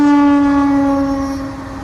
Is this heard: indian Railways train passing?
yes